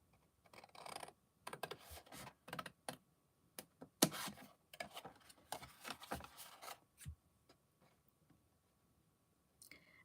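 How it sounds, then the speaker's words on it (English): Scissors cut paper for a homemade chocolate orange gift box, making a quiet run of crisp, irregular snips and clicks that fade out near the end. "So I'm going to cut straight down these lines."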